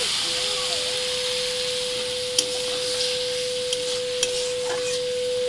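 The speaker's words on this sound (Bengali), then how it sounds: "সেই মশলা ধোয়া জল একটু দিচ্ছি" Spice-rinsing water hits frying masala in a pan, giving a steady loud hiss and sizzle with a few sharp clinks of utensil against the pan and a constant tone underneath.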